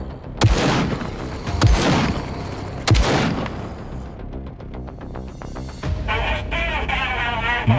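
Gunshots in the mobile zombie shooter Zhunter 2: three heavy booming shots with short echoing tails, then a fast rattling burst of rapid fire, ending with a brighter electronic sound, all loud and close.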